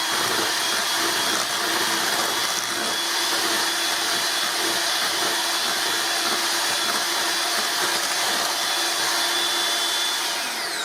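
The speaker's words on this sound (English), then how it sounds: "So that's another reason for me using this mixer." An electric mixer whirs steadily through chocolate pie filling, a continuous high motor whine with grinding texture, loud and close, with no pauses.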